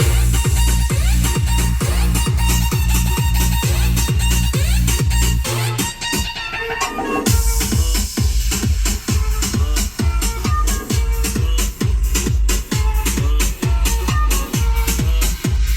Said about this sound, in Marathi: पहिले सिस्टमचा व्हॉल्यूम ऐकून घ्या. नॉर्मल गाणं लावलेलं आहे.